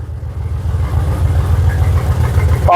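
The engine of a Jaguar XKR X100 runs with no exhaust fitted, giving a loud, close, rough low rumble with uneven pulsing. It holds steady for a few seconds before a brief higher sound at the end.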